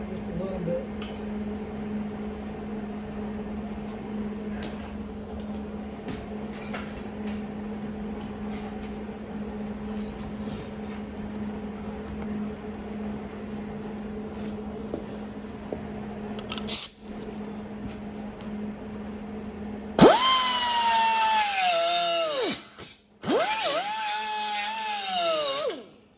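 Angle grinder working weld seams on a Chevy cab-over van conversion body, loud high-pitched whine starting after a stretch of quieter shop noise, cutting out briefly and then resuming in close bursts.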